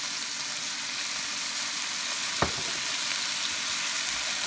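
Soy sauce poured into a pan of frying pork and noodles: a steady, bright sizzle holds throughout, with a short splash or clack midway.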